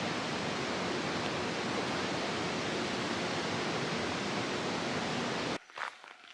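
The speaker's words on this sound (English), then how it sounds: "And crossing over the Androscoggin River." Loud, constant rush of the Androscoggin River pouring past an old hydroelectric station fills nearly the whole stretch, then cuts off abruptly near the end, leaving brief faint rustling.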